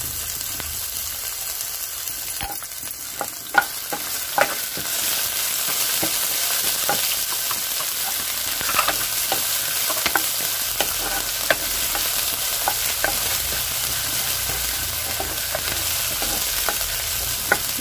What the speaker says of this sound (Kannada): ಈಗ ಕುಟ್ಟಿದಂಥ ಶುಂಠಿ ಬೆಳ್ಳುಳ್ಳಿ ಪೇಸ್ಟ್ ಹಾಕ್ತಾ ಇದ್ದೀನಿ